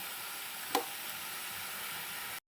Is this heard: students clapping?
no